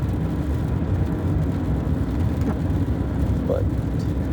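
Steady low road rumble inside a car driving in rain, a continuous dense hum with faint swishes, heard alone without talk.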